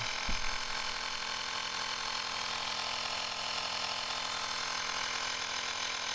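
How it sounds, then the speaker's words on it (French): A small tyre-inflation air compressor runs with a steady, loud mechanical drone and rattle, after a brief click at the start. "on entend le compresseur qui tourne derrière"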